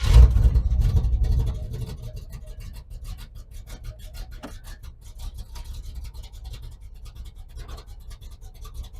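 A 1980 Pontiac LeMans engine fires with a loud, heavy burst of low rumble, then settles into a quieter, uneven running note scattered with faint clicks and rattles.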